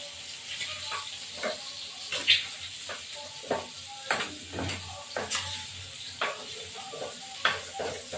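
Oil sizzles as potatoes fry in a pan while a spatula repeatedly scrapes and stirs, giving a rhythmic series of scraping strokes over the frying hiss.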